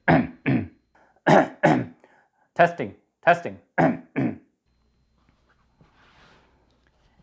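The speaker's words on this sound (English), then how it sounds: "A cough test to see how well it can handle louder noises without distortion." Several sharp, close coughs in quick pairs, loud and abrupt, recorded on a FULAIM MX11 wireless lavalier microphone, followed by quiet room tone.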